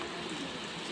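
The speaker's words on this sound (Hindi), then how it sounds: "यहाँ फिर से बारिश शुरू हो चुकी है" Steady rain hissing evenly throughout, a dense wash of noise with no pauses or other sounds standing out.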